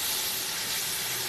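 Yogurt added to a hot pan of Punjabi-style mutton and potato curry and stirred, a soft, even sizzle and hiss that runs steadily throughout at low volume.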